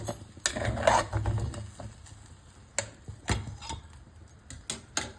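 A spoon stirs cooked bhagar (barnyard millet) in a pot, giving sparse, quiet clinks and scrapes in an irregular rhythm, close by with a faint background.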